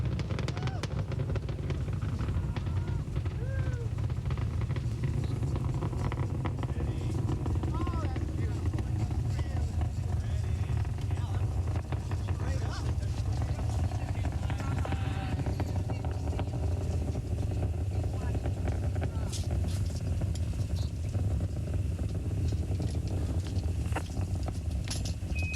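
Engines of Space Shuttle Endeavour during launch, a steady deep roar and rumble holding constant throughout, heard through a broadcast feed with a voice talking over it.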